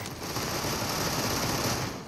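Sustained rapid gunfire in the video game Super People forms a dense, continuous burst of loud shooting that fills the whole moment without any voices.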